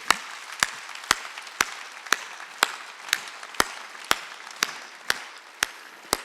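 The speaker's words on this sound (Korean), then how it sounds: "박수 치라고. 박수." A Sunday church congregation claps in steady unison, a dozen or so evenly spaced sharp beats at about two per second, moderately loud with no voice over them.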